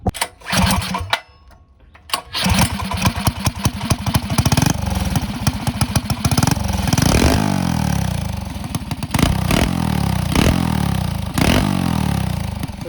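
A small engine fitted with a 22mm Mikuni carburetor runs loudly and close after a brief lull, revving up and down with clattering bursts and sharp throttle blips.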